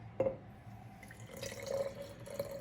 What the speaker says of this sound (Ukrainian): Тепер сюди додаємо водички.